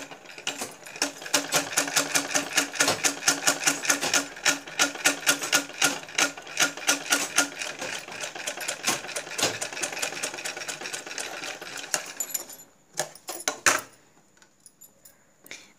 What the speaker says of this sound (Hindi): पहले आप सिलाई करके हम दिखा दे रहे हैं